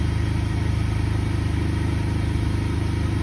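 A Honda GX200 engine on a pressure washer runs at a steady, even idle, with a close mechanical chug and clatter throughout and no voices.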